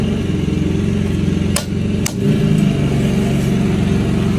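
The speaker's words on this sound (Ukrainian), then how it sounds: "бачимо, що генератор у нас працює" A Matari M4000I generator engine runs steadily at close range, a loud, even mid-pitched drone, broken by two short clicks partway through.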